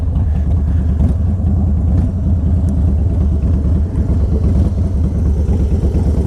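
A Harley-Davidson Softail Deuce motorcycle engine idling nearby, a steady loud low rumble with an even pulsing beat and no talking.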